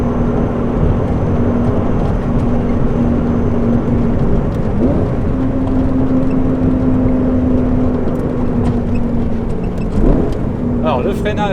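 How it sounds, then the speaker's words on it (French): Lamborghini Gallardo Superleggera engine idling after a cold start inside a garage, a loud steady rumbling drone with a constant hum, while someone talks over it. "démarrage à froid est vraiment très bruyant dans le garage"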